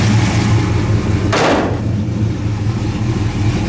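A 1970 Plymouth Road Runner V8 idles steadily up close, with a single brief rev of the throttle coming off fast idle before it settles back to a rumbling idle.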